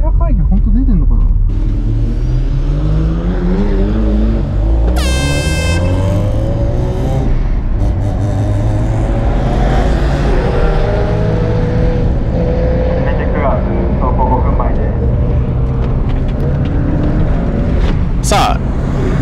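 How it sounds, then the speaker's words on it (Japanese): A 400 hp Subaru Impreza GRB with an HKS GT3 turbine, a demo car, pulls onto the Honjo race circuit, its engine rumbling steadily and revving close up from inside the car while people talk. "アヘッドのデモカー兼販売車両の GRB インプレッサでコースインをしていきました"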